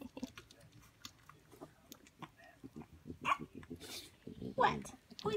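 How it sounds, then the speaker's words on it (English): A four-week-old puppy makes soft, intermittent growls and grumbly whimpers, faint and close, while someone talks nearby. "Always growling. Always growling."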